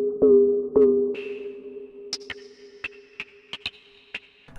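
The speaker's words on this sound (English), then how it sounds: "here's some percussion sounds" Synthesized percussion: two low booming hits with ringing tones, then a series of sharp electronic clicks and pings in an irregular rhythm.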